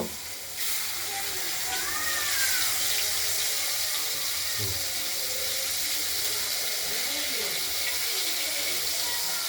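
Pieces of catla fish frying in a pan, a steady close hiss and sizzle running throughout with a few soft bubbling pops and clinks, with no talk over it.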